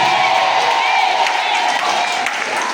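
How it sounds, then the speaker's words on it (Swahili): A church congregation claps for Jesus during a sermon, producing dense clapping with crowd noise, some cheering and scattered shouts mixed together, fairly loud and continuous throughout. "Tumpigie Yesu makofi."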